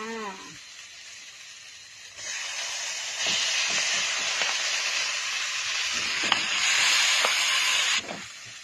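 Minced pork stir-fried in a hot pan for Thai basil stir-fry gives a quiet hiss that swells into a loud, sustained sizzle, with faint scraping knocks of the spatula and no talking.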